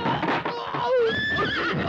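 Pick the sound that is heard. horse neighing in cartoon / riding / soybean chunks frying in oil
horse neighing in cartoon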